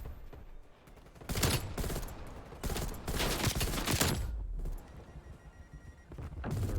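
Burst guns firing in a video game, with loud clustered volleys of rapid shots in repeated bursts, close and dense, separated by brief lulls filled with low battle rumble.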